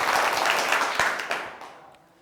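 A seated group in a workshop on bodily changes claps together, a close, dense burst of applause that starts full and fades away over about two seconds.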